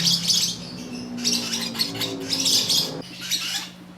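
Pet lovebirds chirp close up in a burst of shrill, rapid tweets and squawks that come in several clustered bursts over a low background hum.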